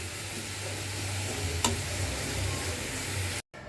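Cabbage bhaji frying in a pan, a steady, close sizzle running throughout with one brief sharp click midway, cutting out abruptly just before the end.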